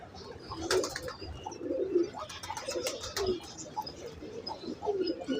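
Racing pigeons coo softly in a loft, low throaty coos repeating irregularly close by, mixed with light chirps, rustling and occasional wing movement, with no talking.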